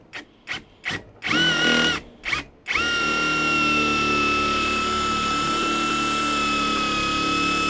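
A Fanttik REX K2 APEX mini impact driver drives a large deck screw into wood without pre-drilling: a few short close bursts of high whine, then a long steady loud run of the motor.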